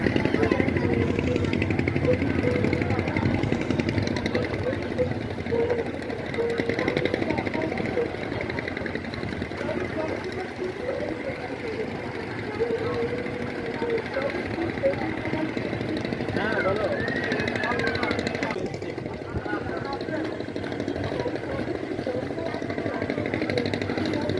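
A motor launch ferry crossing the river from Nabadwip to Mayapur, its engine running steadily with a continuous low rumble and drone, close and even in level throughout.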